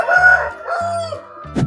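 An Indio Gigante rooster crows up close and loud at a farm in the Philippines, one full cock-a-doodle-doo call with rising and falling harmonic notes, ending in a short sharp burst.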